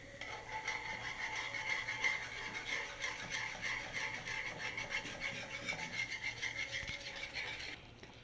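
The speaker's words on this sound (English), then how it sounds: "I'm stirring it now." A spoon or spatula stirs a herb-seasoned sauce in a pan, a steady continuous scraping and rubbing that runs almost unbroken for about eight seconds and then stops, with no talking.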